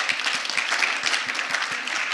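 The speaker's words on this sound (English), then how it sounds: "so we can all give them a round of applause." Audience applause closing a family intergenerational interview at a Southern Jewish community event, a steady wash of many hands clapping at moderate distance, fairly even throughout with no voices over it.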